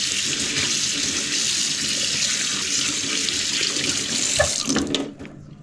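Tap water runs steadily over mackerel fillets being rinsed at a sink, a loud continuous splash that breaks into brief handling clatter before the flow cuts off near the end.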